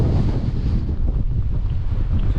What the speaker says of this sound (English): It's absolutely blowing a gale,